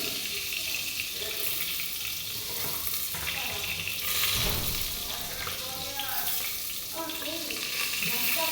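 Slices of brinjal (begun bhaja) fry in oil in a pan in a home kitchen, giving a continuous bubbling sizzle that holds steady and loud throughout, with faint voices and kitchen movement underneath.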